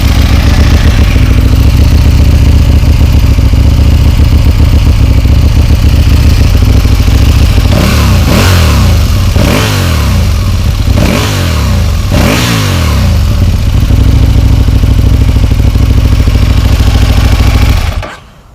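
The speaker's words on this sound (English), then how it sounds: "just thought I'd do a quick little start up and rev so you can hear what it sounds like" Aprilia Tuono motorcycle with its stock exhaust, baffles partly removed, starting up and idling loud and close, then blipped in several sharp throttle revs around the middle before settling back to idle and cutting off at the end.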